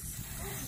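Water sprayed from a hose to wash mud off a fossil shark tooth held in a hand, a steady close hiss with no pauses.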